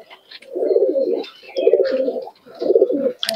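Pigeons coo in three repeated rounded bursts at a Murshidabad pigeon market, close and clear with short quiet gaps between calls.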